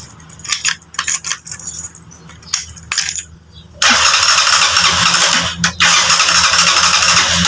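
A Honda TMX125 Alpha motorcycle, just washed and stalling, has its electric starter tried: short irregular cranking bursts and clicks, then a loud steady broadband churn that never catches into a clear running engine.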